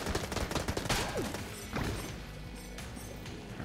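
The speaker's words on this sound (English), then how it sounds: "I'm gonna keep going with the machine pistol for now." Rapid machine pistol fire in the Enter the Gungeon video game crackles in a dense, continuous burst of shots mixed with busy game effects and music, loud throughout with a sharper cluster near the start.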